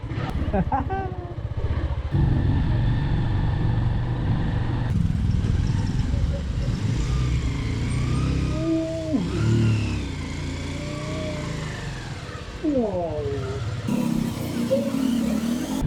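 A motorcycle carries a passenger through the streets of Kathmandu, Nepal, its engine droning close and loud with repeated revs rising and falling amid street noise, while voices speak over the ride.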